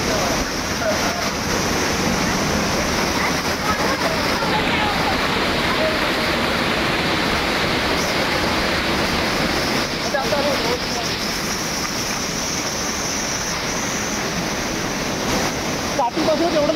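A waterfall in the Konkan region roars in a constant, dense rush of falling water, unbroken from start to finish, with a voice faintly audible beneath the noise.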